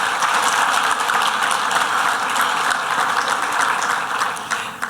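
A room of attendees at a business leadership summit applauds officials, agency leaders and community partners, producing a dense, even wash of clapping that holds steady and fades slightly at the very end.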